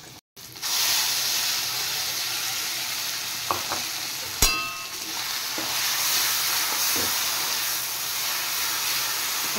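Bitter gourd fries in a pan with spice paste, giving a steady loud sizzle and hiss with a few brief clinks and stirring scrapes, and no talk.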